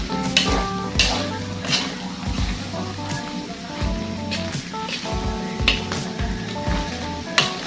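Ingredients sizzle and fry in a pan for bopis, a continuous crackling hiss with intermittent stirring clatter and low rhythmic scraping throughout.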